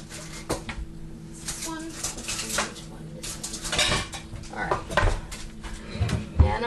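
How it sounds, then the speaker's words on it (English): A scooper is grabbed from a set of kitchen utensils while making cheesy garlic biscuits, with clinks and clatters of metal utensils and pans scattered through the clip, some sharper knocks near the end. "I am just going to grab a scooper."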